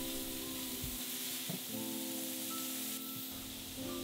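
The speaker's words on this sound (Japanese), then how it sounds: "高温で焼いていってかなり肉をカリッカリに仕上げていきます" Ground meat fries hard at high heat in a pan while making curry with chili oil, a steady loud sizzle with crackling pops throughout, no talking.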